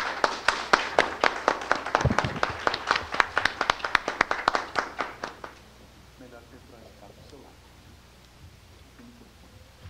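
An audience at an academic lecture event gives applause for the invited speaker, a close, steady patter of claps that fades out after about five seconds, followed by a quiet voice.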